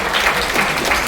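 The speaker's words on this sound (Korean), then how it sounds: "박수 부탁드리겠습니다." An audience at a book launch event at the National Assembly Museum claps together, a thick, even burst of applause with no gaps, loud and close.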